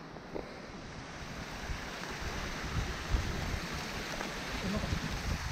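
Mountain river crossing on a hike to Ikegoya-yama in the Kansai region in March, a broad continuous rush of flowing water with wind noise, steady and close.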